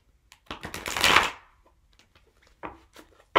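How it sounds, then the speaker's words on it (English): Tarot cards shuffled by hand, a quick riffle burst followed by a few short card taps and flicks, close and fairly loud, with no talking. "That was a poor shuffle."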